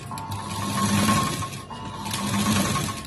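A sewing machine stitches blouse piping nearby, giving a steady mechanical whir with a rapid needle clatter in two runs separated by a brief dip.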